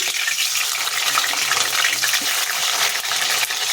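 Finely chopped onions hit hot oil for vangi bath, giving a dense, loud, continuous sizzle and crackle close up, steady throughout with no talking.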